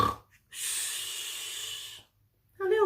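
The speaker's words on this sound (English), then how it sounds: "Soon he began to snore." A wolf's single long, hissing snore-like breath in the quiet, followed by a pause and the start of another breath.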